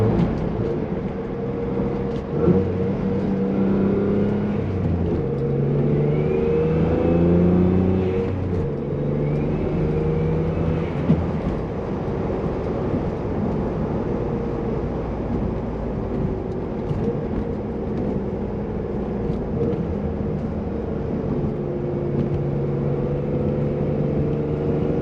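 Chrysler Conquest car on the road making light acceleration pulls, a steady engine drone heard from inside with rising and falling revs, continuous and moderately loud, with no talking.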